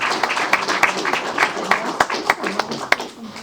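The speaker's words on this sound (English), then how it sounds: "let's give them a round of applause." An audience claps for honorees at a city council meeting, a moderate round of applause with distinct individual claps standing out, while voices talk faintly underneath.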